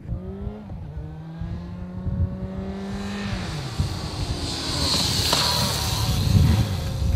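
A motorcycle brakes with the rear brake at a riding school, its engine tone dropping steadily as it slows, then rising into louder road and tire noise, heard from moderately near with no talking.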